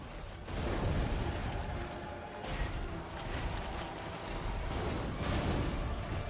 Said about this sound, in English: The explosions are actually pretty big.